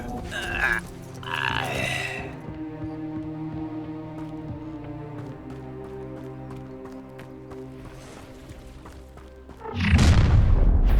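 A Bombarda spell explosion in the Hogwarts Legacy video game, a loud close blast that bursts in near the end, following a sustained, tonal magical hum and a few brief voiced sounds.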